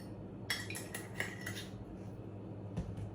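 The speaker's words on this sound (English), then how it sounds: "give it another quick stir" A spoon stirs a protein pumpkin ball mixture in a bowl, giving a few light metallic scrapes and clinks against the sides, close and fairly quiet, with no talking.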